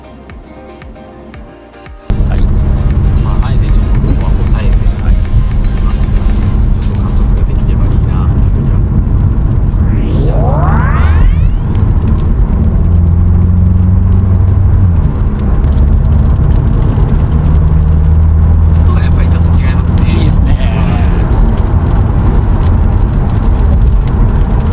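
A VW Golf 8 GTI on the road, with steady engine drone and road noise inside the cabin as the driver presses the throttle. Someone talks over the sound throughout.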